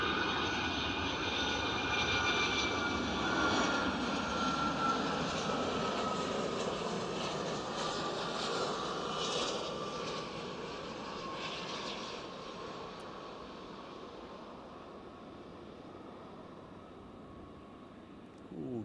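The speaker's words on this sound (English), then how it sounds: "We know it's United, and we know it's a 757, and we know it's in from New York" A United Boeing 757 in from Newark lands at Edinburgh Airport, its jet engine whine and roar loud at first then gradually fading as it rolls out along the runway.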